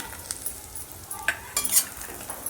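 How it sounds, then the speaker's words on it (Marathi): Makhana (fox nuts) roasting in ghee for dink methi ladoo, with soft sizzling, scattered crackles and light stirring scrapes, close and fairly quiet. "आता आपण मकाने भाजून घेऊया"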